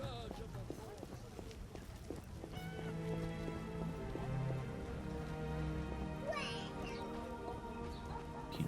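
Rain falling in The Witcher video game, a steady hiss under background music, with hoofbeats and a voice talking over it.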